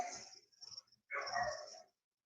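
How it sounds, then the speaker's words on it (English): Pet dogs barking and huffing indoors at close range, two short bursts separated by a brief pause, fairly quiet and with no speech over them. "My dogs are barking."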